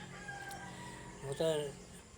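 A hen gives a short burst of clucking partway through, close by, over a quiet outdoor background.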